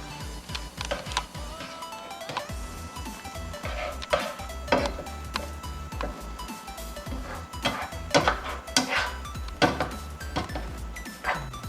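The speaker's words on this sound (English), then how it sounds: "you're just going to want to stir the soy sauce in" Soy sauce is stirred into lettuce wrap filling in a pan, with a steady run of close scraping, tapping and sizzling sounds from the utensil against the pan.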